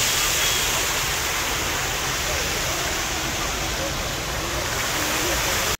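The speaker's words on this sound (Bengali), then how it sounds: "কি সুন্দর একটা ঝর্ণা এখানে দেখুন।" Water pouring from a fountain in a garden park, a loud, steady broadband rush that fills the whole clip without pause.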